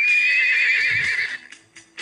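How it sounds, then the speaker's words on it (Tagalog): A horse on Taal Island lets out a loud, close, drawn-out whinny that wavers in pitch and then trails off, followed by a few faint scuffs. "Yung mga kabayo, may mga kabayo palang naiwan dyan po sa Taal Island."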